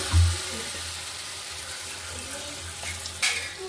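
An omelette fries in hot oil with a steady, moderate sizzle and a low hum beneath, a brief scrape or clink near the end.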